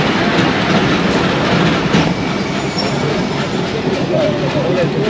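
Restored Dhamaka Express train running, heard from inside the decorated locomotive cab: a steady, loud broadband rumble of engine and wheels on rail, with faint squeals and some background voices underneath.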